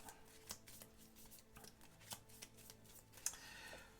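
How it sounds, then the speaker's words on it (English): A deck of cards is shuffled for a solo board game, faint irregular riffling and snapping of cards with scattered sharp clicks, quiet and close, with no voice over it. "each player draws a card, which is going to make me shuffle up my deck again"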